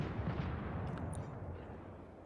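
Heavy naval gunfire from the British battleship HMS Lion in World of Warships: Legends, a loud low rumbling boom that rolls on and slowly decays, with no voices over it.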